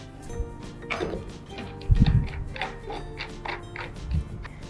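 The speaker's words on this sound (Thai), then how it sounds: "เราก็จะใส่น็อตจากด้านบนลงข้างล่างนะคะ" Bolts being driven into a cat condo (model YFC040) during assembly, with soft mechanical clicks and ratcheting turns, a louder knock and rattle near the middle and another bump toward the end.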